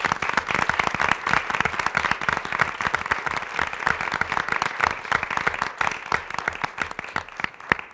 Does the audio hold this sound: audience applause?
yes